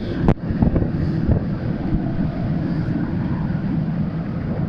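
Strong wind buffets the microphone on the open deck of a cruise ship sailing from Finland to Sweden, with a low rumbling roar from a boat engine and propeller beneath and a sharp knock near the start.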